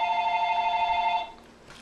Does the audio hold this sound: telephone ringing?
yes